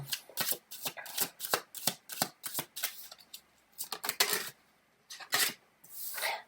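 Tarot cards are shuffled close up in quick, riffling bursts of papery flicks and slides, separated by short pauses, with no voices.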